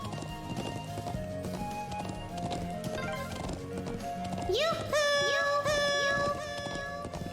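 Horse hooves galloping in the video game Trails of Cold Steel, a quick clip-clop rhythm under game music with a brief whinny, steady and moderately loud throughout.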